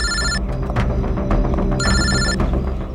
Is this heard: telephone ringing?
yes